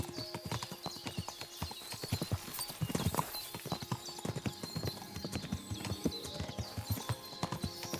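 Steady clip-clopping of horse hooves in a quick, continuous rhythm, close and clear, with a brief whinny partway through.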